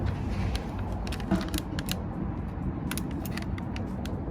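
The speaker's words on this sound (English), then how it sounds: "we're going to need to take the scissors, cut this" Scissors snip open a package of cookie dough mix in a home kitchen, giving a few short crisp cuts and clicks over a steady background hum.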